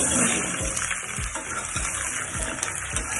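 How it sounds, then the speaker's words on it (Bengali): Pumpkin pieces frying lightly in oil in a wok with cumin and five-spice seeds, giving a steady close sizzling hiss with small crackles throughout and no talk. "এটাকে আমি আগে হালকা করে ভেজে নেব। কুমড়োটা হালকা করে ভেজে নিয়েছি।"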